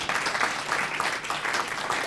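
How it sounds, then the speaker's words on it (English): Audience at a public service award ceremony applauding, a steady wash of clapping from many hands filling the room, fairly loud and sustained throughout. "So give yourself a round of applause."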